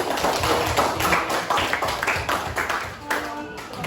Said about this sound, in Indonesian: Beri tepuk tangan untuk Kendari